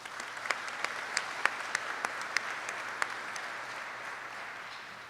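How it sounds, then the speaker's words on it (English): An audience at a warrant officer graduation ceremony claps in a steady, moderately distant round of applause with scattered sharper individual claps throughout. "So let's give them a round of applause, please."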